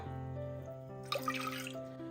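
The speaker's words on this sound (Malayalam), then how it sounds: "ഇതിലേക്ക് ഒന്നര കപ്പ് വെള്ളം ഒഴിച്ചു കൊടുക്കുക" Water from a cup poured into a pressure cooker being readied for peeling garlic, heard as a short, soft splash over a steady background hum.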